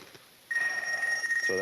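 A mobile phone rings during a lecture on twentieth-century inventions, a steady electronic ring tone starting suddenly after a quiet moment and continuing loudly, with a voice breaking in right at the end.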